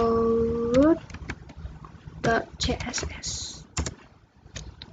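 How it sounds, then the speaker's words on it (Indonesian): Computer keyboard keys clatter in irregular short bursts of clicks while building a website's CSS in Notepad++, with someone speaking over parts of the typing and brief tonal sounds mixed in. "Saya ketikkan dulu."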